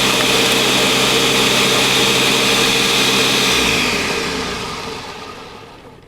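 A Ninja Mega Kitchen System blender runs on its crush setting, chopping ice with a loud, steady whirring roar that holds for several seconds and then spins down and fades as the motor stops.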